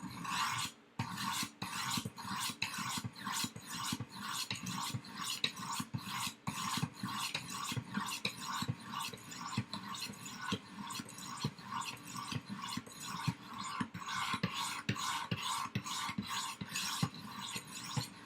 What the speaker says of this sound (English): I'm not pressing these stones up against this blade at all.